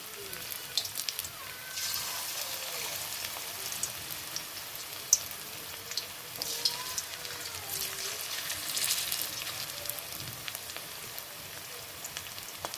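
Winter vegetable pakoras fry in hot oil in a karahi, a soft, steady sizzle with crackling pops throughout, heard under someone talking.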